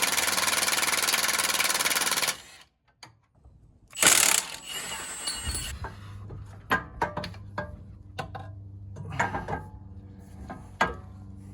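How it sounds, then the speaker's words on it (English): Ratchet working on a Jeep JL track bar, a rapid close clicking burst, a pause, a second short run, then scattered metallic clanks and taps over a low steady hum. "we're going to remove the track bar first"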